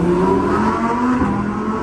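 A warmed-up Lamborghini Huracán STO with 640 horsepower pulls hard under acceleration, its engine a loud, steady, close-up roar that holds through the whole stretch with no voices.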